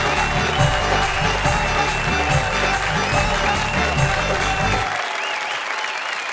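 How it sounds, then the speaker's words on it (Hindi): Audience at a Hindi poetry recital applauding the poet Dr. Rahat Indori, a dense sustained wash of clapping with music running underneath, fading out near the end. "आइए तालियों की घनघोर बारिश कर दें"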